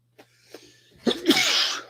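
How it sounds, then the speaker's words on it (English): A single sharp sneeze after a couple of quick intakes of breath, loud and close, ending in a breathy rush. "I think I'm going to sneeze."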